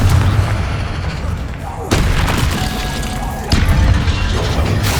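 Heavy booming blasts of the Bombarda spell in Hogwarts Legacy, three deep explosions each followed by a rumbling tail, loud and close, with game voices in the mix.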